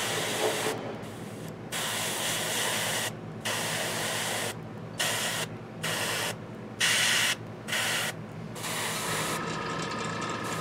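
Close, steady bursts of fine hissing spray come from an airbrush putting paint on a Reaper miniature of a hill giant warrior. Short pauses separate the bursts of spray, and no one speaks.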